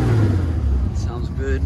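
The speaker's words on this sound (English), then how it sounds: "You can hear the exhaust." Idle exhaust note from a 1977 Datsun 280Z fitted with a Holley carburetor and header system, a steady low burble close by, with someone talking over it.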